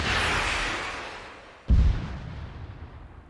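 A single heavy weapon shot from the Cole Protocol mod for Arma 3 lands as a sudden deep boom after a fading hiss, its low rumble echoing and decaying slowly with no talk.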